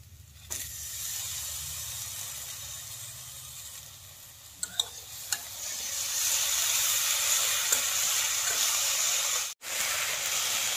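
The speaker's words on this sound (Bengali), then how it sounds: "গুড়টা যতক্ষণ গলে নেই ততক্ষণ নাড়াচাড়া করতে থাকবো, নাতে নিচে লেগে যাবে।" Jaggery melts in a pan with fried drumsticks while being stirred, giving a soft, steady hiss and sizzle that grows louder partway through, with a few faint scraping taps and no talk.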